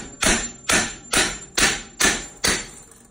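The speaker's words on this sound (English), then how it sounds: "Now he's gonna use a chisel and to knock it out," Six evenly spaced, loud hammer blows strike a chisel to knock a pre-hung door loose during a DIY install, each a sharp metallic crack with a short ringing decay.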